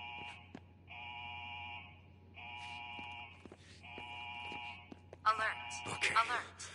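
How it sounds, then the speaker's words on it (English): A repeating electronic alarm from the video game Days Gone: steady two-tone buzzing blasts with short gaps, followed by a louder burst of mixed game sounds and voices. "This is a level 4 alarm."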